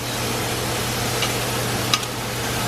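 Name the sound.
onion caramelizing in a pan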